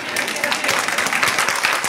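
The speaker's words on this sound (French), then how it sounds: "Merci aux petites mains d'applaudissements" Brief burst of audience applause at a church conference, many hands clapping steadily and fairly close, with a murmur of crowd voices underneath.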